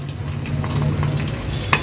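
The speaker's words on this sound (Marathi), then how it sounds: "ह्या साईडला पण तव्यातलं तेल गरम झालंय ह्याच्यात पण आपण हा पापलेट ठेवूया" Stuffed pomfret wrapped in banana leaf sizzles in hot oil on a tava, a steady close frying hiss with a small sharp crackle near the end.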